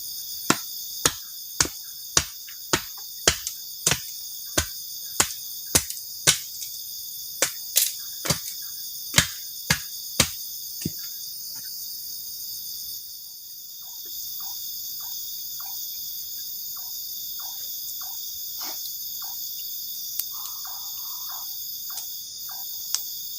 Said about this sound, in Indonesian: menikmati suasana malam, ditemani sama suara jangkrik juga.